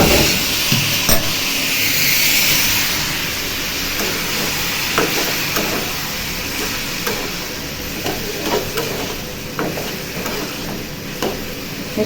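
Large prawns go into a hot pan with fried bottle gourd greens, bringing a continuous low sizzle broken by frequent scraping stirs and light clinks of a spatula against the pan.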